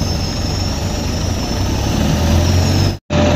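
A motorcycle engine that had been refusing to start and smoking heavily runs with a continuous steady drone, then cuts out abruptly in a brief dropout near the end before resuming.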